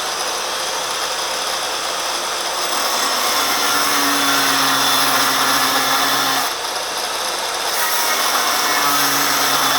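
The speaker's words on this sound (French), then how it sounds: "je vais couper tout droit et je viendrai arrondir ensuite" A power tool cuts in a straight line through metal for a homemade quad frame, giving a loud, steady grinding whine that shifts in pitch midway, with no voices.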